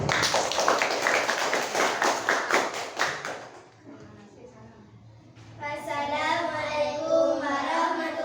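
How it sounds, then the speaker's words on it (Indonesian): Classroom applause for group 1, with a burst of many hands clapping for about three seconds, then fading into a lull and children's voices. "kasih tepuk tangan untuk kelompok"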